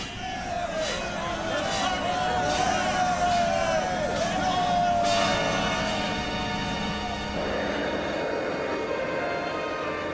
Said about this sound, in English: Chiron's troops cheer their bloodthirsty leader